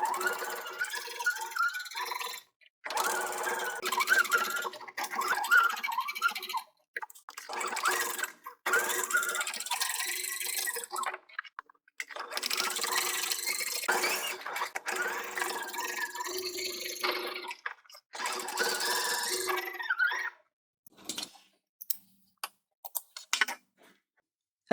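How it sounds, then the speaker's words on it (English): A sewing machine stitches fabric in repeated bursts of a few seconds each, whirring steadily and then stopping between runs, close and fairly loud, with no talking. "What I'm going to do is stitch on one side of all of them and then flip it"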